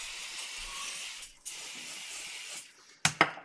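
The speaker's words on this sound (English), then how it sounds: "Spray it." Cooking spray hisses onto a waffle cone maker in a steady close spray burst, then after a pause comes a second, shorter and sharper spray.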